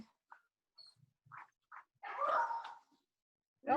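A dog whimpers in short high whines, then lets out a longer strained yelp and a final bark, fairly close in an otherwise quiet room.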